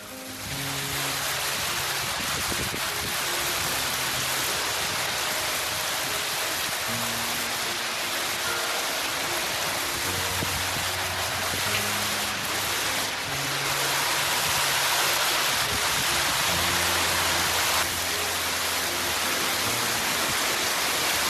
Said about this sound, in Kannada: ನೋಡಿ, ಫುಲ್ ಮಳೆ ಬರ್ತಾ ಇದೆ.